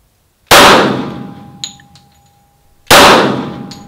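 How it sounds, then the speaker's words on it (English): Two sharp, loud .45 ACP shots from a Glock 21 striking a SafeGuard armor plate during a plate test, each a hard crack with a ringing metallic clang that decays, a couple of seconds apart. "We're going to put some 45 ACP on him."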